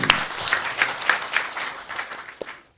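Audience applause at a Gyeonggi Province policy debate forum, a steady burst of many hands clapping in a hall that builds briefly and then tapers off toward the end.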